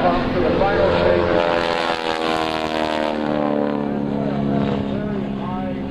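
An aerobatic propeller airplane flies at the 2001 NAES Lakehurst airshow, its engine droning steadily and rising and falling with the passes, heard under someone talking throughout.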